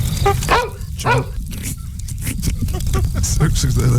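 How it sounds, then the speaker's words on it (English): A dog barks several times in quick bursts in a nighttime woodland setting, close and fairly loud, with a voice speaking over and around the barks. "There's a dog."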